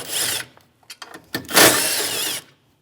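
A power tool with a 10mm socket backs out bumper bracket bolts near the latch of a 2016-2025 Chevrolet Malibu, with a short whir, a few clicks, then a longer close, loud whirring burst.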